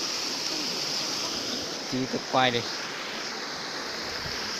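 Mountain stream rushing steadily in a highland valley while someone wades across, a constant close water hiss with a man's brief spoken phrase over it midway.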